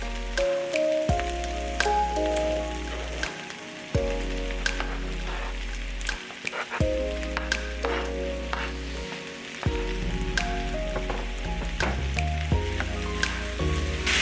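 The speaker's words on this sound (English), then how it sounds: "And now I'm going to add in my onions." Onions dropped into frying potatoes set off a steady crackling sizzle with bursts of spattering, running unbroken under a low, repeating tonal background.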